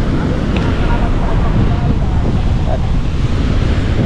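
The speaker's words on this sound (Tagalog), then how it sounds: "Yan ang dagat natin ngayon mga kahaw" Rough sea with strong wind gusting into the microphone, a loud continuous roar of surf and buffeting air throughout, with no break.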